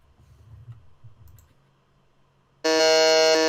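A game show buzzer blares loudly for about a second at the end of a quiz round, a steady harmonic electronic tone that cuts off abruptly after low background murmur.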